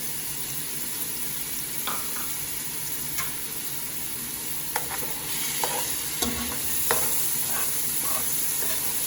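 Pimento stirred into a hot pan with garlic while making callaloo: a continuous close sizzle with scattered scraping and tapping from the stirring spoon, growing slightly busier toward the end, no voices.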